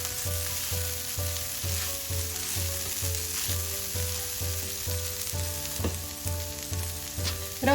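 Egg and beaten rice mixture sizzling steadily in a frying pan, with regular scraping strokes of a spoon stirring it through the continuous close fry.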